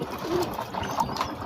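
Pigeons coo softly during a bath in foamy water, a few low, brief coos over a faint watery background with quiet trickling.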